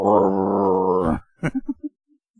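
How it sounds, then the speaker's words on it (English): A small dog gives a sustained, throaty growl for about a second, then a quick run of four or five short, sharp barks, loud and close with no one talking. "Barking his head off."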